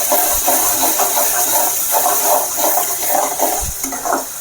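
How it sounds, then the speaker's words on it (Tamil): Beetroot thokku sauce bubbles and hisses in a pan as a spoon stirs it, producing soft rhythmic scraping over a constant simmering hiss. "நல்லா கொதிக்கிட்டு இருக்கு."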